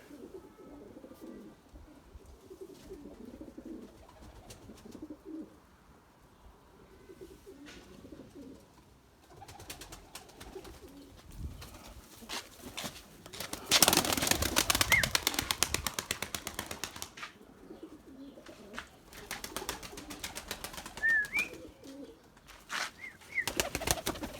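Limoni breeding pigeons in a loft coo softly and steadily, with a burst of loud wing flapping midway and more flutters and shuffling near the end.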